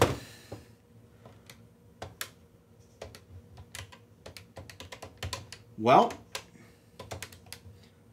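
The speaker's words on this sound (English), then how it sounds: "Let's try out that keyboard." Keys clack in quick, irregular bursts on the small keyboard of a Tandy Color Computer family machine, close and fairly soft, with a brief word spoken partway through.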